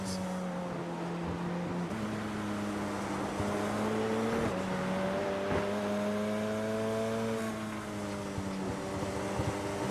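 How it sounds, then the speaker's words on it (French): A steady engine drone with rising and falling harmonic tones, a Radical SR10 racing car running continuously at high revs at Oschersleben, loud and constant throughout. "on voit Asselin qui est de retour dans la boîte de vitesse de la Radical SR10 de Julien Bourdic"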